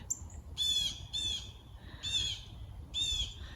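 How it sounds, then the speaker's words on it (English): A bird squawks in four loud, harsh bursts at a steady spacing, close by in a quiet outdoor spot, with no one speaking. "A bird telling me I'm an intruder."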